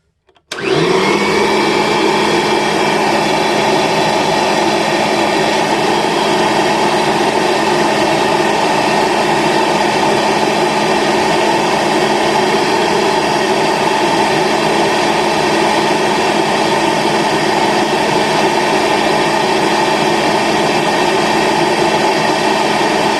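A Kirby G3 vacuum cleaner motor starts up and runs at a constant high-pitched whine and roar, loud and close, with no talking for over twenty seconds.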